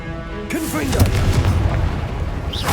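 A deep, booming blast from the Confringo spell in the video game Hogwarts Legacy erupts suddenly and rumbles on loudly, with a voice heard around it.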